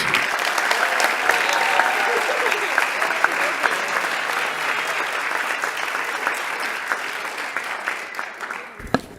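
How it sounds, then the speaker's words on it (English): A high school National Signing Day crowd applauds the college signees, a steady, dense round of clapping that holds for most of the stretch and drops off abruptly at the end. "Can we give one more round of applause for all our college signees?"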